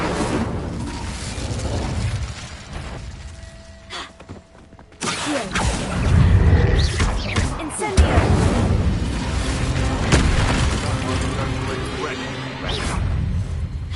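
Fire and explosion spells cast in combat in Hogwarts Legacy on PS5: dense crackling blasts and rumbling booms, with a sharp loud burst partway through, followed by sustained, busy battle noise.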